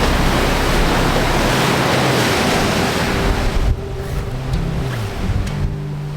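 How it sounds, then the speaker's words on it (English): Strong wind of about 30 knots buffets a sailing yacht at sea, with roaring gusts and rushing waves in a dense, close wash that eases slightly partway through. "it's pretty wild and windy out here tonight."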